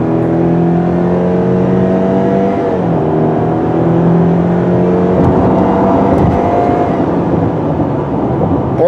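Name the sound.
Subaru Impreza engine accelerating and spooling up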